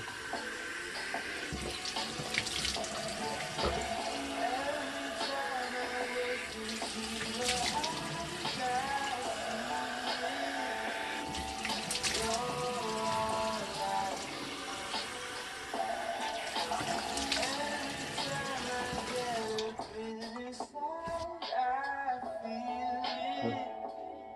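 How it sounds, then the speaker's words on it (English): A tap runs while someone rinses their face at a home facial, a steady close splashing and gushing of water that carries on for about twenty seconds before easing into quieter trickles and drips. "And then we're just going to rinse with water."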